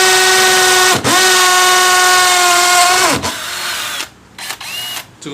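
Stanley 18V cordless hammer drill grinding into a concrete wall: a loud, steady whine that briefly dips twice, then stops, leaving faint knocks and a short trailing whir.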